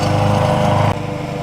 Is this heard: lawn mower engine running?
yes